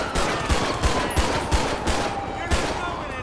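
Rapid gunfire in the LSPDFR police video game, sharp loud shots in a quick, fairly regular burst of about ten, close and dominant.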